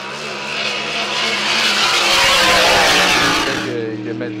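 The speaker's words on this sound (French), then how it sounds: "On ouvre les machines. Et plein gaz pour ces essais chronométrés." Race cars roar past at full throttle during Grand Prix time trials, a loud broadband engine howl that swells and peaks mid-clip before fading as the cars move away, with no one talking.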